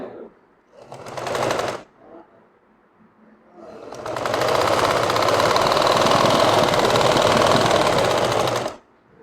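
A sewing machine stitches pajama fabric, a short burst of rapid mechanical clatter followed by a pause, then a longer, steady run of fast needle chatter lasting several seconds before stopping. Brief speech comes just before the stitching.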